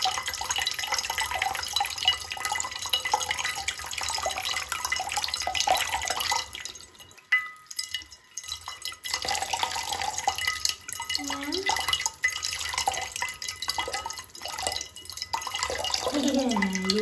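Water runs and drips during a small bath in a garden setting, a steady trickling splash that fades briefly midway and resumes, with soft talking over it.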